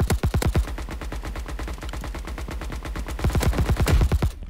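Rapid gunfire in the video game Mini Royale, a long sustained string of sharp, evenly spaced shots, loud and close, continuing without pause.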